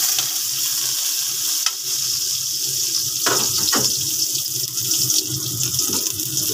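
Onion and ginger sautéing in hot oil in a pan, a bright continuous sizzle with scattered crackles and a couple of sharp clanks from a utensil stirring, close and fairly loud with no speech.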